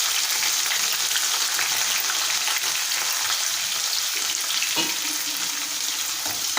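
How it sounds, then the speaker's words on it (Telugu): Sliced onions and green chilies fry in a pan for a taro curry, giving a dense, continuous crackling sizzle that stays loud and close throughout, with an occasional scrape of a utensil. "వేసుకొని వీటిని మంచిగా ఫ్రై చేసుకోండి"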